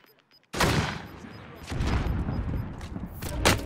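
M16 rifle fire in a first-person shooter, starting abruptly after a short silence as a dense, loud run of rapid shots and echoing impacts that keeps going to the end, with voices mixed in.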